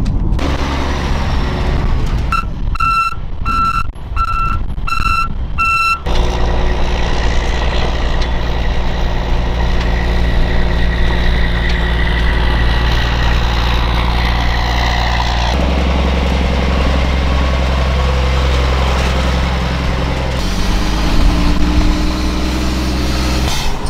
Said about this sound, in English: these are the meanest Jake brakes off a little C12. They sound so mean and they're so strong too.